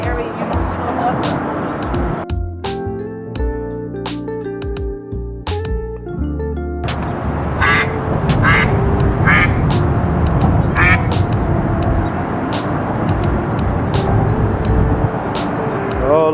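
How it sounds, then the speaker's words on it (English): Ducks quacking near a bridge on a Chattanooga, Tennessee walkway, a run of sharp repeated quacks breaking through busy outdoor noise and passing traffic, with people talking nearby. "we got ducks as soon as we hit the bridge"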